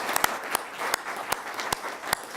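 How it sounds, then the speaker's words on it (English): Audience applause at an air pollution control achievement awards ceremony, honoring recognized companies: a short stretch of dense, mid-distance clapping with a few sharper individual claps standing out, no voices. "I think we should give each of you another round of applause"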